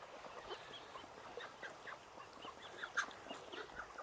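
A pet duck quacks and chatters in a run of soft, rapid calls close by, with one brighter call near the end.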